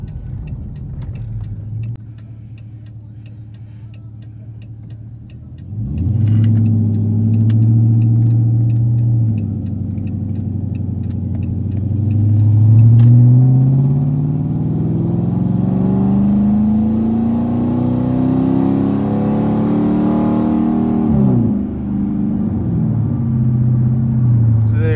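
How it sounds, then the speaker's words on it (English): Straight-piped 2013 Chrysler 300C at wide open throttle, heard from inside the cabin: a low idle rumble jumps into a loud, deep exhaust roar that climbs through the revs, eases off, then builds again before settling. "right here, I'll give you a wide open throttle pull"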